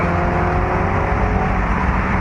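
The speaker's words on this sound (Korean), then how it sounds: "이 배기음이 훨씬 더 자극적으로 들려옵니다" A Mini Cooper S Convertible with its 192-horsepower engine in sport mode gives a loud, constant exhaust drone and engine roar while driving, with no talking.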